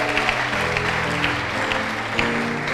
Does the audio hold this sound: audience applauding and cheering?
yes